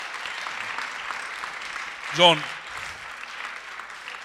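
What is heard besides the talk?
audience applause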